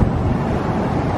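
Steady outdoor wind buffets the microphone with a constant low rumble for about a second, and there is no talking.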